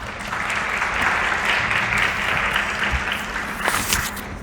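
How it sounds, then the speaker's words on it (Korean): A church congregation claps to welcome the pastor to the pulpit, a full, steady round of applause with a slight swell partway through. "우리 박수로 환영하겠습니다."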